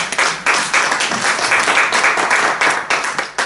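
A church congregation bursts into loud, sustained applause honoring the word of God, dense clapping filling the space with a few brief dips in intensity throughout.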